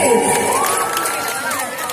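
Concert crowd in Lhokseumawe cheering and shouting with applause, a dense steady roar of many voices close and loud throughout, with an amplified voice rising above it.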